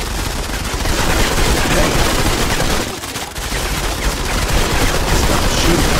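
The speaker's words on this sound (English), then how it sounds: "Stop shooting that fur." Dense, loud gunfire in the mobile shooter Modern Combat 5, continuous rapid shots with a brief dip midway, and a voice shouting once over the din.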